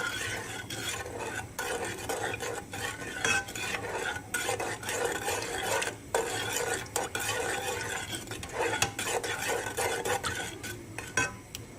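Water, sugar and a lemon slice stirred in a pan for a syrup, a continuous close scraping and clinking of a utensil against the metal, busy and rhythmic throughout, with faint simmering beneath and no talk.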